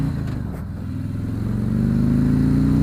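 A 2018 Harley-Davidson Street Glide's big V-twin chugs in sixth gear at about 1,800 RPM, a steady low thumping rumble close by that grows slightly louder across the stretch, with no talking.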